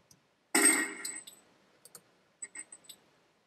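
Spent gun shell casings dropped onto a hard surface: one loud clattering burst, then a few scattered metallic clinks and ticks settling, close and without talk.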